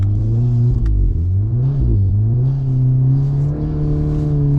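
Tuned VW Golf R engine revving hard while drifting in snow, loud and close, with a steady high drone that rises and dips as the throttle changes, continuous throughout with no talking.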